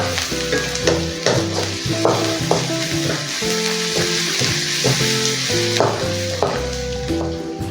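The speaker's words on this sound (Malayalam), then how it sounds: "4 അല്ലി വെളുത്തുള്ളിയും ഒരു ചെറിയ കഷ്ണം ഇഞ്ചിയും കുഞ്ഞായി നുറുക്കിയത് ആഡ് ചെയ്ത് വഴറ്റാം." Garlic and finely chopped ginger sauté with onion in a pan for pav bhaji, a steady loud sizzle broken by repeated scraping stirs and clinks of a spatula.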